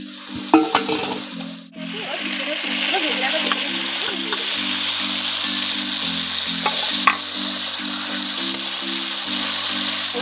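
Spiced water poured into a pan of frying marinated chicken chaap, a loud sizzle and splatter after a short gap, then steady frying hiss with stirring clinks under a low hum.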